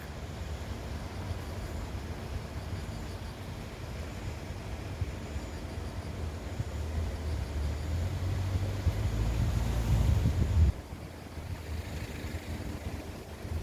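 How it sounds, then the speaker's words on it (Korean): Strong outdoor wind buffets the microphone with a constant low rumble that swells louder toward the end, then drops suddenly, with no voices present. "지금 바람이 많이 불고 있습니다."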